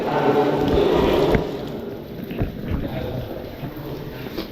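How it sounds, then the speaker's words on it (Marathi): Heavy monsoon rain hisses steadily outdoors at a hill fort, with a louder rumbling wash at first that then settles into a softer patter. "बाहेर खूप पाऊस आहे"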